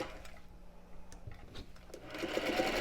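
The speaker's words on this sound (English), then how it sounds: "I'm going to continue sewing" A sewing machine runs at low volume, stitching along the selvage edge of fabric while a quilter pieces yardage, with a steady mechanical whir that grows slightly louder toward the end.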